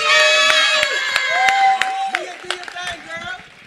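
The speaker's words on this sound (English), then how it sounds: "Give her a big round of applause" A live podcast audience cheers, whoops and claps for Mia Bell as she takes the stage, with sharp individual claps and high shouts over a lively crowd roar.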